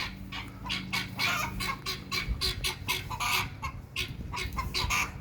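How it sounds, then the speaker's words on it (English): Chickens clucking and squawking close by in a backyard garden, busy overlapping bursts that sound like quarrelling, with no talk. "If you ever watch chickens and birds like I do, they're arguing."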